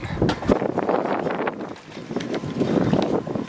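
Strong wind buffets the microphone in loud, continuous gusts on a Carver Mariner 350 boat, with a brief lull midway before the roaring rush picks up again.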